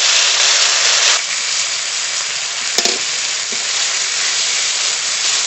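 Cumin, bay leaf, ground spice paste with coriander, dried chilli and ginger sizzling in hot oil in a pan, a loud steady frying hiss throughout with a brief stir clatter near the middle.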